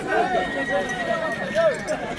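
Horses at a crowded horse market, with rising and falling whinny-like calls and hoof noise amid a busy background of many voices and market chatter.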